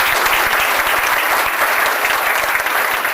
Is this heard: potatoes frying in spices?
no